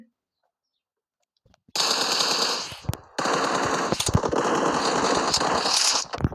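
Video game gunfire: after a second and a half of silence, sustained automatic bursts erupt, loud and close, briefly pausing once before resuming rapid fire that runs nearly to the end.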